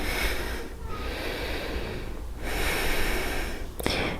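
A person doing a gentle beginner yoga practice breathes audibly, slow, close inhales and exhales through the nose in a quiet room, with a brief soft snort near the end.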